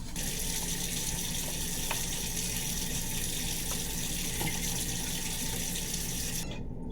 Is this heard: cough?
no